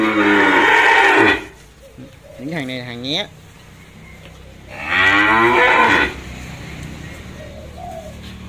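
Cattle moo at a cow farm holding a newly arrived batch of cattle: a loud, drawn-out moo opens, a shorter wavering call follows, then another long moo, with someone talking over and between them.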